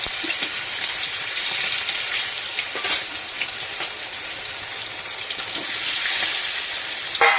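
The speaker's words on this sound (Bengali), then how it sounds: "এই যে মাছটা ভেজে নিচ্ছি" Fish frying in hot oil in a kadai, a steady broadband sizzle and crackle running throughout at close range with a few brief louder pops, no voices.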